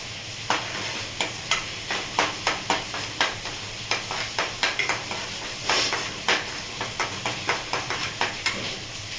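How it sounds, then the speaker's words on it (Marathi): Paneer bhurji being stirred and sautéed in a pan, with a steady sizzle under a quick, regular series of spatula scrapes and taps against the metal, close and fairly loud, no talking. "छान ब्राऊन कलर येईपर्यंत परतवायची आपल्याला"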